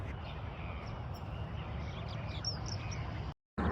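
Ducks quack in short bursts over broad outdoor ambience on still water at a lakeside near a New Zealand ski field, the calls fairly faint and steady before a brief dropout near the end.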